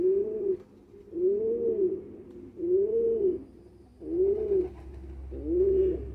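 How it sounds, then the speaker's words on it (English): Pigeons coo close by in five evenly spaced, rolling calls, each a soft throaty swell lasting about a second, with a low background hum and no talk. "Since I was little in my native country, I used to wake up to this sound every morning."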